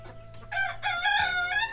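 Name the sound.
rooster crowing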